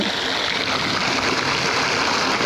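A jacuzzi at a beach resort pool area on Koh Chang gives off a steady, dense rushing and bubbling of churning water, loud and unbroken throughout with no voices.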